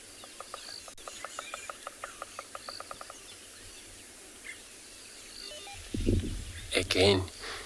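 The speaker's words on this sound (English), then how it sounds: "This bearded woodpecker that you hear knocking that wood." A bearded woodpecker knocks on wood on an evening safari, a rapid series of sharp, evenly spaced taps in the background, followed by a brief burst of nearby rustling.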